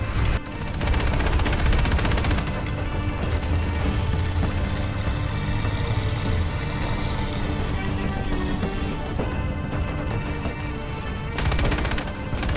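Vehicle-mounted gunfire in War Thunder, a loud, continuous rattling stream of automatic shots with heavy low rumble, pausing briefly before resuming in dense bursts.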